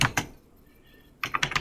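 Computer keyboard typing during Python coding, with clicky bursts of keystrokes at the start, a short pause, then a quicker run of several close, crisp taps at the end.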